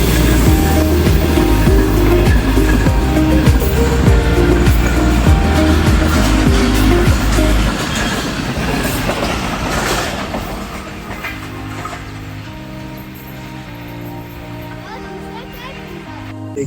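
A Pakistan Railways train runs past Mankiala railway station with a loud, broad rumble and rattling wheels close by, then fades into a lower, steadier roll as it moves away.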